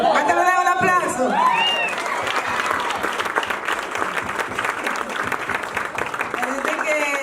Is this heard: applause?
yes